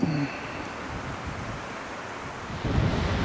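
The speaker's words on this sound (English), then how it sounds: "I don't even know if you can hear this, but yeah, windy." Wind buffets the microphone in a rough, continuous roar, with stronger gusts at the start and near the end, in the Arkansas Ozark National Forest.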